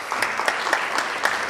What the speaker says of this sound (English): let's please give a round of applause as they come on stage